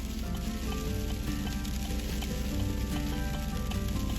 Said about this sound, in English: You can hear the ice pellets, the freezing rain hitting my front windshield